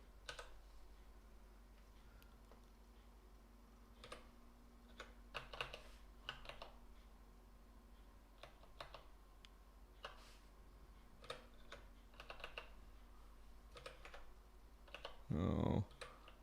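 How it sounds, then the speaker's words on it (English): Typing on a computer keyboard in a quiet room, scattered clusters of soft clicking keystrokes spread through the clip, with one louder thump near the end. "takes me forever to figure out how to type the Enigma on my IP keyboard"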